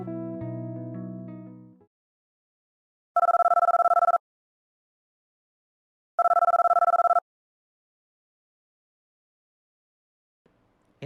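A mobile phone call rings unanswered: two evenly spaced electronic ring tones, each about a second long, separated by silence, after a brief musical tone at the start.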